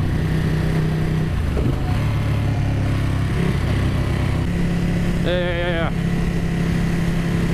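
A Ducati 959 Panigale being ridden on a demo-day route around Greenville, its engine giving a continuous loud drone mixed with wind rush, with a brief spoken word and a short tonal sound partway through.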